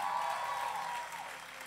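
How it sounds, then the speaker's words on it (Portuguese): Church audience applauding, a dense, even wash of many hands clapping, moderately distant and sustained throughout, with no voices standing out. "Vamos aplaudir minha esposa"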